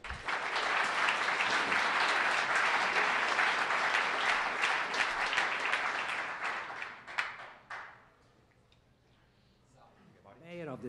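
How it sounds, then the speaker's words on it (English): A conference crowd gives a keynote speaker a broad, sustained burst of applause that fades out after several seconds, followed by quiet, then a voice and music. "Please give him a round of applause."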